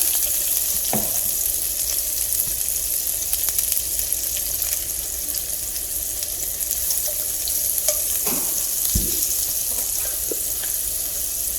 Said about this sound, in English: We'll fry the onions for about 1 to 2 minutes.